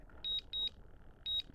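A DJI Mini 5 Pro drone gives four short, high, thin electronic beeps in two pairs, faint and close, over a quiet background with no talking.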